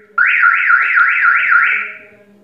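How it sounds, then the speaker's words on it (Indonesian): A car alarm siren fitted to a Yamaha NMAX motorcycle starts abruptly and warbles up and down in a steady repeating cycle, loud and near, then fades out after about two seconds. "Nah, alarm menyala."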